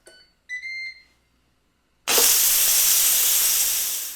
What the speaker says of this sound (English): When the pressure cook time is up, you can do an immediate release of the pressure.